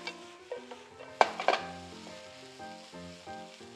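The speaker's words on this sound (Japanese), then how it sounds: "玉ねぎがしんなりしたらマッシュルームを加えてさっと炒め合わせます。" Sliced onions and mushrooms are stir-fried in a pan with a soft sizzle under scattered utensil knocks and scrapes, including a sharper clatter midway, close and fairly quiet with no talking.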